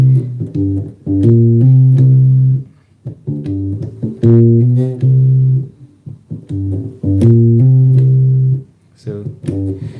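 Bass guitar notes played with hammer-ons during a beginner praise bass lesson, a repeating melodic line of plucked and hammered notes in clear phrases, close and fairly loud with no talking.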